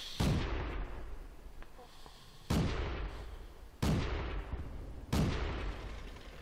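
Heavy tank cannon shots in World of Tanks, four loud booming blasts spaced a second or two apart, each with a long rolling decay, with faint talk in the background.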